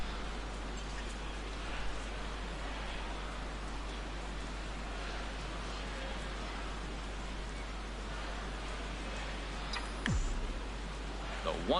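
Rain falls on a gloomy day in MLB The Show 17 during a Seattle Mariners at Detroit Tigers game, a steady soft hiss that runs throughout with a constant low hum beneath it.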